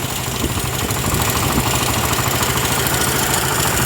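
A running engine drives a car alternator used as a generator, giving a steady, close, mid-low idling hum with a fine pulsing throb and no pauses, and no voices over it.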